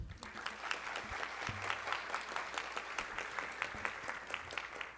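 An audience at a ceremony applauding the councilwoman, steady fairly faint clapping, close to even in level, with a few low thumps.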